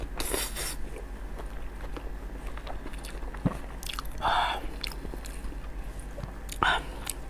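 Someone bites and chews spicy Chinese food such as sheep head and blood sausage, with close, wet crunching bites and squishy chewing. Louder bites come now and then, and faint murmurs sit in the background.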